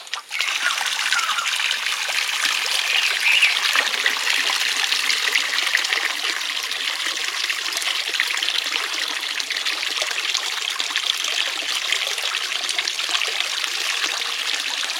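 Water pours steadily from a catch pot into a pond while fishing for small fish, a continuous close splashing gush with a constant loud rush and no pause from start to finish.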